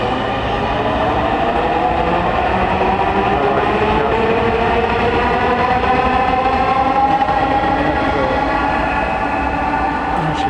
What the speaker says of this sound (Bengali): উত্তরার দিকে যাচ্ছে ট্রেন।